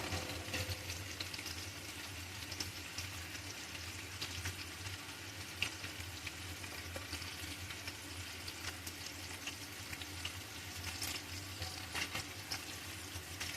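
Half a kilo of onions fry in a pan for a mixed biryani, a soft, distant-sounding continuous sizzle with faint crackles and occasional light stirring clicks. No voices are heard.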